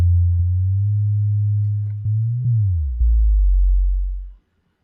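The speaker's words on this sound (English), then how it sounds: "It's still very pure tone, right?" A single low, pure electronic tone hums steadily, gliding slightly in pitch with a few soft clicks, then cuts off abruptly.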